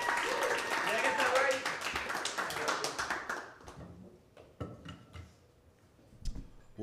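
Comedy club audience clapping and applauding for the next comedian to take the stage, a dense burst of claps that gradually thins out over several seconds into a few scattered claps.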